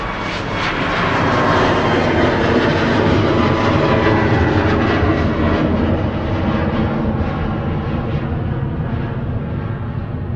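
A jet airliner roars loudly as it takes off from Manchester Airport, a steady, powerful engine rumble with a broad hiss that slowly fades toward the end.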